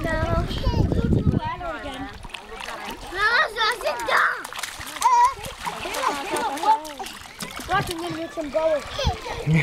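Children splash water in a lake, with repeated close splashes and a heavy burst at the start, under almost constant excited kids' voices and shouting.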